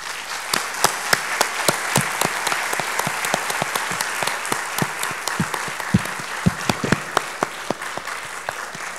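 Audience applause fills a session of the 46th RCT meeting, a dense, steady clapping from a sizeable crowd with sharp individual claps standing out, sustained throughout with no talk over it.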